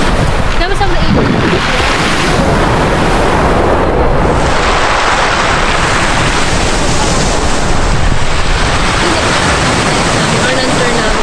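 Ocean waves and wind at a La Union beach roar loudly and continuously, a dense rushing wash of surf and gusts buffeting close by, with voices faintly mixed in.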